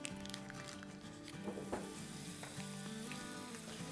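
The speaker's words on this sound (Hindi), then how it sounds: "इसी फ्लेवरफुल चीज़ में हम बटर डालेंगे, जो कि है 2 टेबलस्पून।" Two tablespoons of butter sizzle steadily in a frying pan that still holds flavorful drippings from fried chicken steak, with a constant crackling hiss and a few louder pops, no talking.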